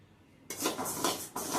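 Rice fries in a pan for homemade masala powder, a sudden burst of dry rattling and scraping as a utensil stirs the grains against the metal, close and brief.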